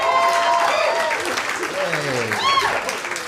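A comedy club audience applauds steadily and loudly throughout, with a voice speaking over the clapping.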